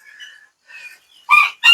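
Rooster of a prized, expensive breed crowing at a farm, a faint opening call followed by two loud, close crows near the end, with no talking.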